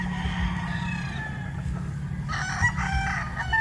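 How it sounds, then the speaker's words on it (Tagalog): Roosters crow and cluck at a farm, close and fairly loud, over a constant low rumbling background. "Roosters out fighting."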